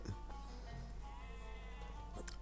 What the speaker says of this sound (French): Mes moutons, mes moutons, ils sont où